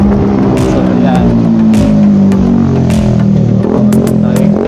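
Car being driven, a steady engine hum with rising and falling revs, close and fairly loud, with occasional sharp knocks and clatter over it and no clear talk.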